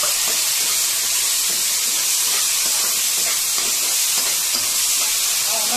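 Tomatoes frying in hot oil for a Uttarakhand dal dish, a loud, steady, close sizzle and hiss that runs throughout.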